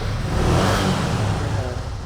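A motorbike engine revs and drones loudly and steadily as the ride sets off, a continuous close mechanical roar with no talk over it.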